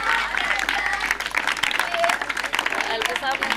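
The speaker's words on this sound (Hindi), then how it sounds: "तालियों के साथ।" An audience claps at a Sunday school program as a guest is garlanded, with someone speaking over the applause throughout.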